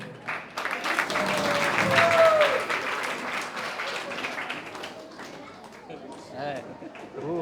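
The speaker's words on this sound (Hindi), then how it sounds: "आप सब कृपया तालियों के साथ प्रभु जी को धन्यवाद दीजिए" An audience at an ISKCON Ratha Yatra lecture gathering in Hingoli claps in thanks, a burst of scattered applause that rises early, then thins and fades while a voice keeps talking.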